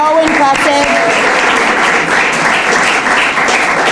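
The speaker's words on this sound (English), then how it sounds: "Can we please have another round of applause for these wonderful young ladies?" An audience at the 2022 Windsor Shad Derby Gala breaks into loud, close applause, a dense sustained burst of clapping, with a voice briefly heard at the start before the clapping takes over.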